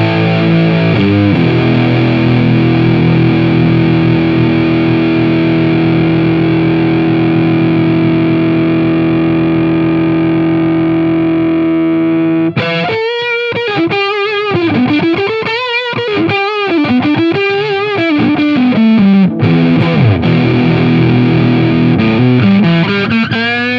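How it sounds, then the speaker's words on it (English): Electric guitar on a single-coil bridge pickup through a Fuzzfather germanium fuzz pedal with fuzz fully up: a long sustained, saturated chord rings for about twelve seconds, then loud bending, vibrato-laden fuzzy lead notes, with slight hum underneath. "So I'm going to turn the fuzz all the way up."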